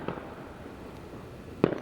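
Fireworks going off outdoors at night, a low steady rumble of distant bursts with one sharper, louder pop near the end.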